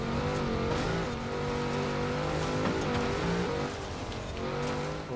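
A car engine in a racing video game, set in a Chelsea school bus rivals event, drones steadily and loudly with shifting revving tones throughout, no one talking over it.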